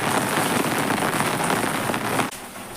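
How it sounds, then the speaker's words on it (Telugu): Steady rain falls hard on a surface, a loud dense patter that fills the air and then drops off sharply near the end, with no voices. "అందులోనూ వర్షం పడుతుంది కదా."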